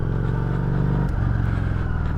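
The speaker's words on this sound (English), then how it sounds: "You hear those revs building." A motorcycle engine on a learner's basic handling drill revs up steadily as throttle is added and the clutch is let out. The drone is loud and continuous and rises in pitch partway through.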